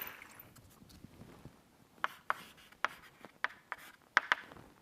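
Chalk writes on a blackboard during a university real analysis lecture, soft scraping strokes punctuated by a series of crisp taps and clicks at irregular intervals in a quiet room.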